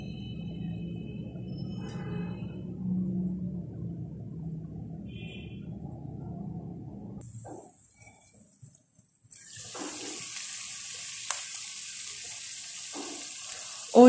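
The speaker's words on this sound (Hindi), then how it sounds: "अब इसकी फ्लेम मीडियम करके इसको कवर करके पकाएं।" Gola kebab cooks on a stovetop, first in an open pan over high flame, then covered on medium heat, giving a steady low sizzle that breaks off briefly before a brighter hiss of frying returns.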